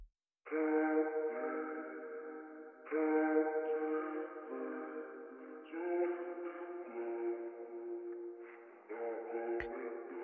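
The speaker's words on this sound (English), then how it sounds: "Then I bounced it and pitched it down 5 and added some delay and the reverb." A chopped soul vocal sample, pitched down with delay and reverb, plays alone as sustained harmonic phrases in several segments separated by brief cuts, set against near silence.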